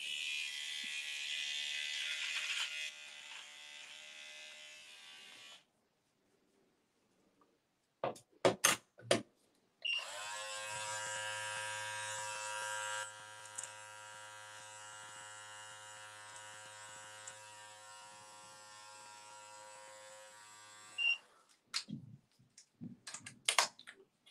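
An electric beard trimmer buzzes steadily during a live beard trim, cutting in and out in bursts with short gaps and clicks between runs, close and clear with no talking.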